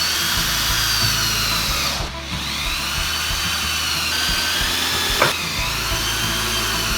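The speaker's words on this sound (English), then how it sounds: "I'm just gonna be putting some screws in through the back into the sides to lock these together" A power drill drives 3-inch screws into the wooden framing of a patio deck box, a close, steady motor whine with short dips and restarts between screws and no talking.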